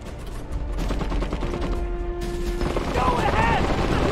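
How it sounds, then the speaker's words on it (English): Gunfire in the real-time strategy game Iron Harvest, a steady dense rattle of weapons under ongoing battle noise and voiced unit callouts, with a sustained tone and a rising whine late in the clip. "We are being fired upon!"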